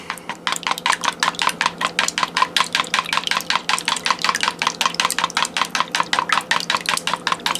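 A fork or whisk beats four eggs in a bowl with quick, steady strokes, about four clinks a second. The close, bright rhythm runs without pause over a faint low hum.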